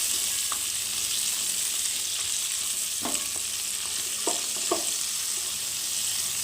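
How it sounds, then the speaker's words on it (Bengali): Prawns fry in hot oil in a kadai, a continuous close sizzle with a few sharp clinks and scrapes as they are turned, and no voices. "চিংড়ি মাছগুলো খুব বেশি ভাজা দরকার নেই"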